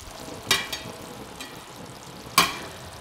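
A spoon stirs chicken and tinda curry in a pan, giving two distinct scrapes and a few lighter clinks over a soft, steady sizzle, close up with no talking.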